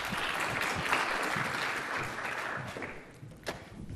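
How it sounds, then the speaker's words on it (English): Audience applause in a Microsoft Ignite 2015 conference session, a full crowd clapping loudly and evenly for about four seconds before thinning slightly at the end. "Please give her a round of applause."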